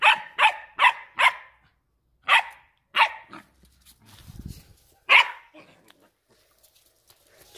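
A recovering puppy barks while playing at a door: a close, loud run of about eight sharp yaps in quick bursts, a low grumble, and a few more scattered barks, with no talking.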